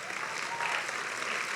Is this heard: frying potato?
no